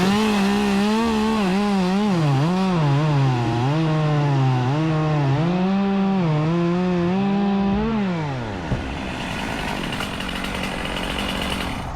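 A chainsaw cuts through a tree limb during a tree removal. The engine is loud and close, rising and falling in pitch under load for about eight seconds, then winds down, leaving a lower hiss.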